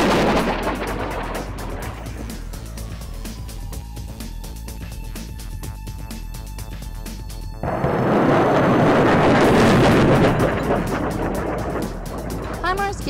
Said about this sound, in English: The battery recently fired a handful of training rockets on Camp Pendleton's Range 408 during live fire exercises.